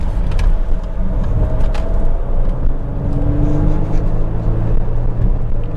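Two-tonne Range Rover Sport 3.0 HSE with 700 Nm of torque driving fast, a steady loud engine and road rumble with rising engine tones as it pulls, heard from inside the cabin.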